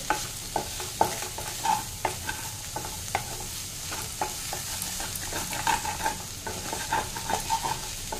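Vegetable chowmein being stirred and mixed in a frying pan, with repeated scraping and clattering strokes over a soft steady sizzle, moderately close and without speech.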